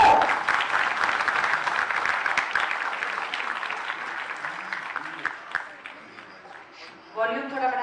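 Audience applause at an official ceremony, the unveiling of a new tourism department logo: steady, dense clapping from a crowd that gradually thins, with a voice speaking near the end.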